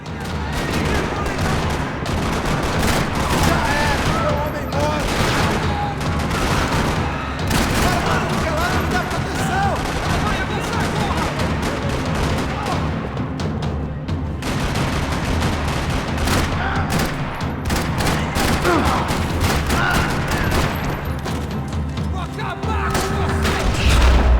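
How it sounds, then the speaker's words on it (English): Dense, continuous rattling gunfire with bursts and booms in a parking lot in the video game Max Payne 3, sustained loud throughout with a brief voice under the din. "Another parking lot rattling with gunfire."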